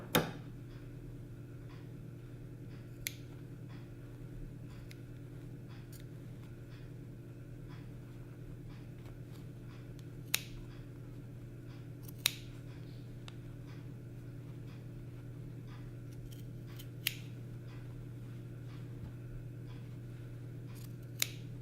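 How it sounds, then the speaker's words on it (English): Scissors snipping fabric to make a button opening for a knife-pleated maxi skirt, a few sparse, faint, sharp cuts spread out over a steady low hum. "we're going to cut an opening"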